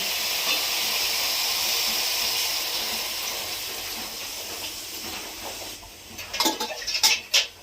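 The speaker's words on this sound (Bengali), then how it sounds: "এবারে দিয়ে দেবো জল" Water hits a hot pan for a tangra fish and pumpkin-stem curry, giving a loud, steady steam hiss that slowly fades before a few sharp clinks of a utensil against the pan.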